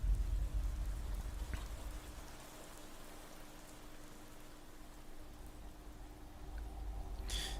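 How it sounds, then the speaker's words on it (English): Steady rain patters on surfaces in a cemetery in the video game Persona 6, a soft continuous hiss that swells slightly at the start and end, with no voices. "So it's raining and we're in a cemetery"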